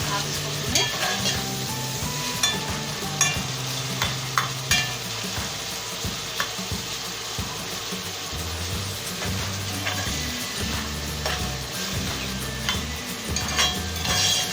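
Khara masala chicken with whole spices frying and being stirred in a pan, a continuous sizzle with scraping stir strokes and occasional clinks throughout.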